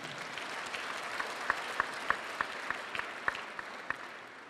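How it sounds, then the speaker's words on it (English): Audience applause for the governor at a public gathering, a moderate wash of many hands clapping with a few sharper, louder individual claps standing out at a regular pace, slightly distant. "A round of applause for our governor."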